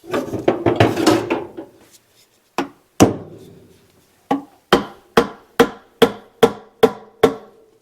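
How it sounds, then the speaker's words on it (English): A screwdriver is hammered to seat an aluminum dual-plane intake on a big-block 454 engine in a C10 truck, first in a quick cluster of blows, then in a run of sharp, evenly spaced metallic strikes, loud and close with no talking. "Get out a crappy screwdriver. See if I can smash it in there"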